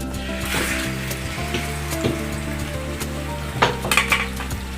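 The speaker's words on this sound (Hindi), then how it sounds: "मीडियम फ्लेम पे हम चिकन को फ्राई करेंगे बिल्कुल अच्छे से, जब तक चिकन वाइट ना हो जाए।" Chicken pieces frying in about a quarter kilo of hot oil over a medium flame for chicken karahi, with a steady close sizzle, occasional utensil clinks and stirring, over soft background music.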